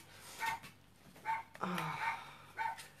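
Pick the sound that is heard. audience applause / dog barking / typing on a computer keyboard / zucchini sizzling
dog barking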